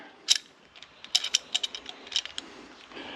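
An adjustable wrench tightens AN fittings on a gasser build, making a close series of sharp metallic clicks and ticks at an uneven pace with no talking.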